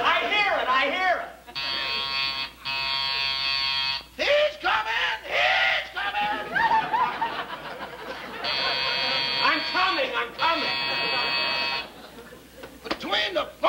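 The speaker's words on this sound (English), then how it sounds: "Between the phone ringing and the door buzzer, I'm a nervous wreck." Door buzzer in a scene from a classic radio comedy program, sounding in two long harsh electric bursts, each made of two or three buzzes, loud and close, while people talk and laugh between and over them.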